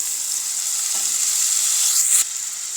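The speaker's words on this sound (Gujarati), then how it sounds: "અને તેને પણ આપણે સરસ રીતે સાંતળી લઈશું." Vegetables sautéing in a couple of spoons of oil in a pan over lowered heat, a steady close, bright sizzle with a brief stirring scrape near the end, no voices.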